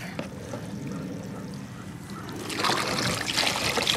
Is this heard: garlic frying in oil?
no